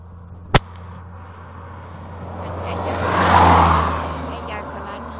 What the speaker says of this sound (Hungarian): Egy autó ment el.